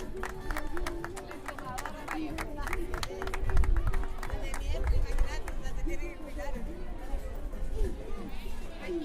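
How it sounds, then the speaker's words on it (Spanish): Crowd applauding at a night carnival comparsa event in Villa Ángela, scattered clapping and cheering with crowd chatter and a voice over a loudspeaker throughout. "Fuertes los aplausos"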